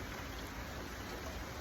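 Steady rain falling outdoors on a wet day, a dense, even hiss of drops that holds constant from start to finish with no voices over it.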